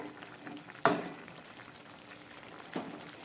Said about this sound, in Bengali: তরকারিটা একদম ফুটে উঠেছে।